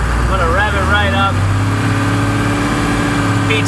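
A 4755 tractor engine runs with a steady low drone that climbs slightly in pitch as it revs up, with a voice speaking over it at the start.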